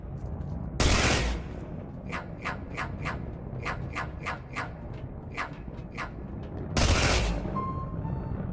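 Weapon fire from the space-robbery game Space Bandit: two loud broadband blasts bracketing a rapid, evenly spaced series of about ten sharp shots, all fairly close with no talking.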